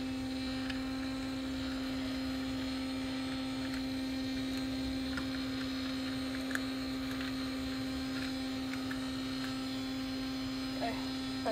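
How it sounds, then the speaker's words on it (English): A laboratory centrifuge spins tubes of blood samples with a steady low electric hum and whine, faint and continuous throughout, broken only by a few small clicks. "So that's ready to go when this blood is finished spinning."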